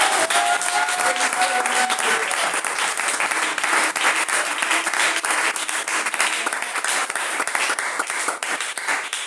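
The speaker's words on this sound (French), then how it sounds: "Donnez le fond d'acclamation à notre Seigneur" A French-speaking church congregation bursts into loud, continuous applause to the Lord, a thick roar of many hands clapping with some crowd voices mixed in, holding steady from start to finish.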